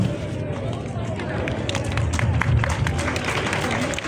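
A class applauding at the end of a Python coding project session, a steady patter of many scattered hand claps mixed with murmuring voices and room noise, building slightly midway and continuing throughout.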